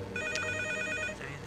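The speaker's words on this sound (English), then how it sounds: "Oh, my phone's ringing." A phone rings inside a horror-style video game set in a locked building, a steady electronic ring with bright sustained tones lasting about a second over a low game ambience.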